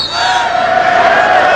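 Lacrosse championship crowd from both sets of fans, a brief loud roar of cheering and shouting that stays sustained and dense with no break.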